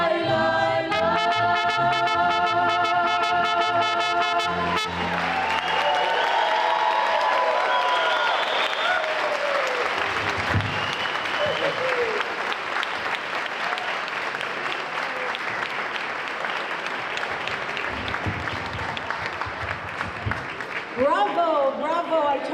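A large audience applauds after a high school mariachi group's performance at a school district event. Dense, loud, sustained clapping runs throughout, with the last music still fading at the start and brief cheering near the end.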